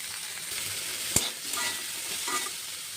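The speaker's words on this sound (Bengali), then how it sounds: "আলু পেঁয়াজটা ভাজা ভাজা হয়ে এসছে" Potatoes and onions fry in a wok for a prawn curry, a steady close sizzle broken by a sharp spatula clink and a few scraping stirs.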